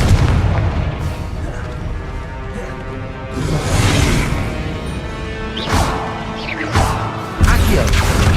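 Fiery Confringo spell blasts in Hogwarts Legacy land as a string of loud booms and crashes, several distinct bursts spaced a second or two apart over constant low rumble, with one whooshing sweep among them.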